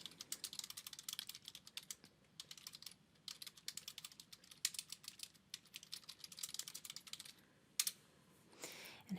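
Rapid typing on a computer keyboard, quiet clicks in quick bursts with short pauses, close and alone.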